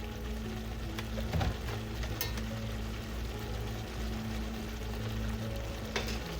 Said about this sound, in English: apple cider vinegar. Let's give this a douse of that's about 2 tablespoons.